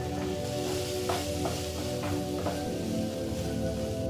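Red lentils frying in hot oil as they are stirred, a steady sizzle with soft scraping strokes recurring every half second or so, close and continuous.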